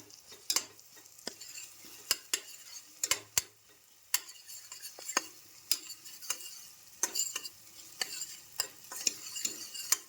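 Onions with ginger-garlic paste sauté in a pressure cooker, a soft continuous sizzle broken by repeated sharp scrapes and clinks of a spoon stirring against the metal.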